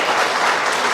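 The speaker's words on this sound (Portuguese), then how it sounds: "E você tem uma excelente oportunidade para aplaudir o Senhor." Church congregation applauding during a sermon, a steady wash of clapping from many hands throughout, moderately loud with no voice over it.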